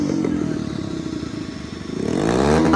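A motorcycle at a busy petrol station fires up after being refuelled, its engine rumbling steadily nearby and rising in a rev toward the end.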